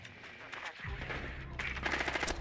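Gunfire from a Rainbow Six esports match at APAC 2026 Asia Kickoff, Daystar versus SH Esports: a pistol headshot amid a burst of shots, loud and close, with a caster talking over it.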